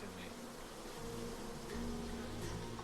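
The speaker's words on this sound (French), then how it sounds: "Les abeilles recouvrent tout le corps de Norm" Dense swarm of about 100,000 honeybees crawling over and covering a man's whole body and face, making a loud, close, continuous buzzing drone that swells slightly partway through, with no voices.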